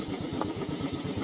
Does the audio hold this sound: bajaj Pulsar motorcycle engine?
yes